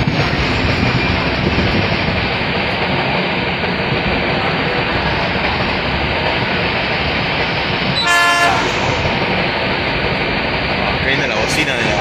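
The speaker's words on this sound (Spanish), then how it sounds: "Viene la bocina de la GR2." A GR2 locomotive on the Sarmiento railway's Merlo–Lobos branch near a level crossing sounds its horn in a brief loud blast over the steady roar of the moving train, heard from on board, with someone talking.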